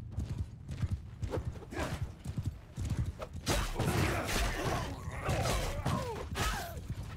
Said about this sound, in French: Nous, on a une bonne cavalerie qui charge.